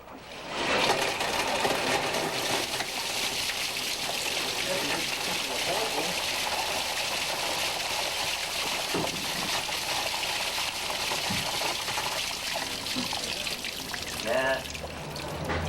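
Water gushing loudly from a sheared-off sewer pipe during a police drug raid in Oakland, a continuous pouring rush that dominates, with faint background sounds.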